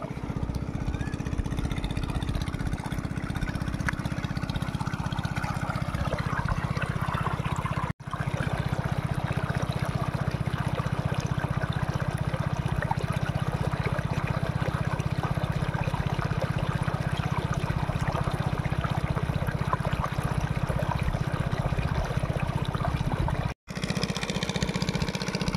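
Irrigation water pours steadily into a jute field at sunset. A pump engine hums continuously under the flow, with two brief cuts in the sound and no talking.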